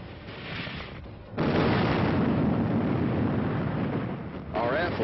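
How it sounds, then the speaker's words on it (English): During a military war exercise, a mortar blast bursts in suddenly after a quiet lead-in and becomes a loud, heavy rumble that rolls on for several seconds. A voice comes in near the end. "Mortar fire is called for to help chase the stubborn aggressor from behind a hill."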